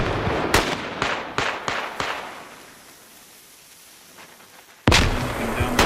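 Video game gunshots ring out as a cluster of loud, sharp cracks early on, then fade into quiet before another heavy burst erupts near the end.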